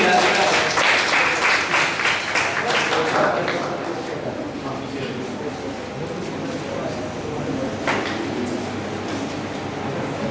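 At a motivational workshop, an audience applauds as the next speaker is welcomed; the clapping is strongest for the first few seconds, then thins out while voices continue in the room.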